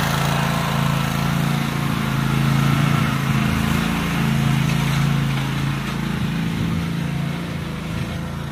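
A leaf blower engine drones steadily and loudly nearby while clearing a driveway during lawn care work, a constant hum with slight shifts in pitch and no pauses.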